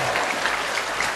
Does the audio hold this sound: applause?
yes